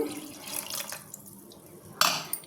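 Water is poured over cooked bitter gourd in short bursts, first a trickling splash, then a quiet pause, then a sharper second pour and a splash close up, with no voices.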